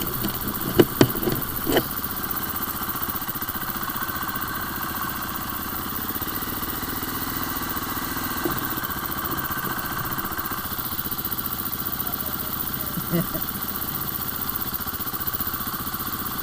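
An enduro motocross motorcycle idles steadily throughout, a continuous mid-pitched engine rumble with a few sharp clicks near the start, heard fairly close in an outdoor setting.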